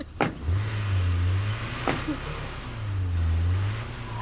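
Truck engine in the State of Decay video game: a low humming motor drone that rises and falls in two long swells, broken by sharp clicks or thumps, with no talk.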